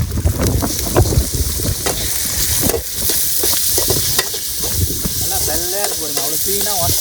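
Cleaned snails sauté with onions in a pan, a loud close sizzle punctuated by scraping stirs, with gusts of wind buffeting the microphone and a faint voice briefly toward the end.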